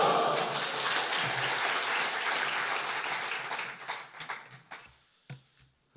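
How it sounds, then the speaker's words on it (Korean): A church congregation gathered for a men's fellowship prayer meeting applauds to welcome a pastor, dense clapping that holds steady for several seconds and then thins into a few scattered claps before fading. "할렐루야로 하나님께 영광 돌리며 박수로 환영하시겠습니다."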